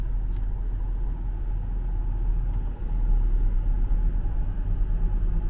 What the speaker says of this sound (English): We think this is the 9th bus we've passed just on the drive out.